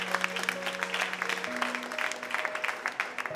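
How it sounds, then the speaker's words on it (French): Studio audience applause on a French singing television show after a duet performance: steady, moderately loud clapping from a crowd throughout, with a musical tone held in the background. "On les applaudit encore très fort"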